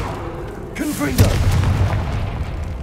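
A Confringo fire spell bursts in Hogwarts Legacy as a single deep boom with a rumbling tail, rising out of steady game ambience and lingering for a couple of seconds.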